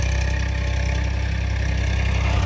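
A tractor engine runs steadily while ploughing a wheat field, a loud, close, continuous diesel rumble with a rough low throb and no pauses.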